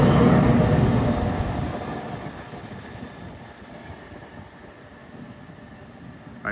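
A train led by a Pride unit locomotive rolls past at Princeton Junction, loud and rumbling at first, then fading into a steady clatter of railcars.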